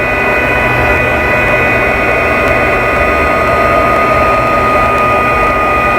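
A loud, constant whooshing roar of a hot-air tool blowing steadily, with a thin high whine riding on top and no pauses.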